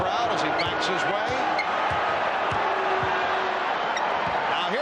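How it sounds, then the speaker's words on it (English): Basketball arena crowd in the 1993 Finals jeering Charles Barkley, a dense continuous roar with ball bounces and sneaker squeaks, with an announcer talking over it. "Charles Barkley hearing it from the crowd as he backs his way."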